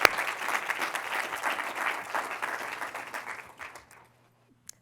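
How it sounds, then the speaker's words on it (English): Audience applause at an evening lecture event, a dense wash of many hands clapping that fades out toward the end, followed by near silence. "please first give a big round of applause to everyone who made tonight possible."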